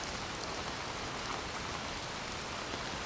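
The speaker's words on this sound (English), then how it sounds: "rain starts to subside, as the clouds move away" Steady rain falls in a continuous, even hiss of dense drops, moderately loud and unbroken throughout, with no voices.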